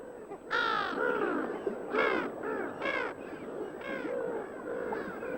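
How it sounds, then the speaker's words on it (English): Brown-headed gulls call at a Pamir mountain lake, giving a series of five or six harsh, nasal, crow-like cries, loud and close, with no voices. "Brown-headed gulls. They're rather like the familiar black-headed gull,"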